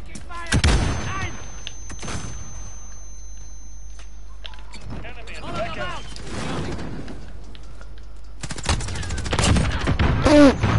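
Gunfire in the video game Modern Warfare: sharp bursts of shots at the start and a dense, loud volley toward the end, close by, with a voice talking during the quieter stretch between.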